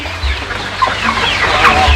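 Village chickens on a farm cluck and chatter close by, with several short calls scattered over steady coop noise and no talk.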